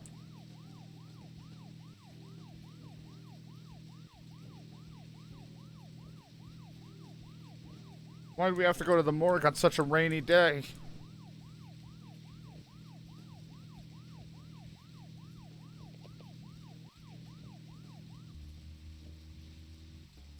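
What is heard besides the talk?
police car siren in video game Deadly Premonition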